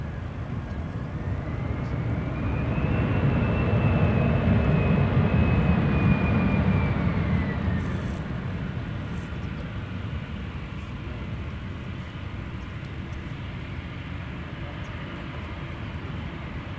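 An aircraft accelerating along the runway at an airport during an emergency exercise, its engine roar swelling steadily to a loud peak mid-clip and then easing off into a sustained broad rumble, with no voices.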